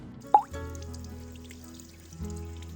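Chinese chives being washed in water, with a brief splash and drip followed by soft running water and gentle sloshing, close and fairly quiet.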